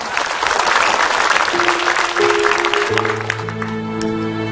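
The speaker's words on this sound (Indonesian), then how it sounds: "tepuk tangan Ustaz Abdul Kafi, silakan" A television studio audience at an Islamic dawn lecture program applauds the invited preacher, loud dense clapping that fades out in the second half as sustained musical tones rise in.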